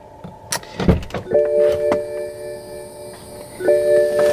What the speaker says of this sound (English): the pump actually doing its job